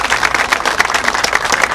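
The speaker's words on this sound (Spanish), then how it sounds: "regálame un aplauso, pero de todos" Loud, dense clapping from a crowd, steady throughout the short burst.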